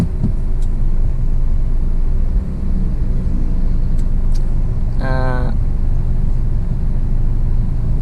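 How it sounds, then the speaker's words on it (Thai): Midday road traffic of cars makes a loud, steady rumble and whoosh of passing vehicles, with a short horn blast partway through. "รถก็เลยเยอะนะครับ"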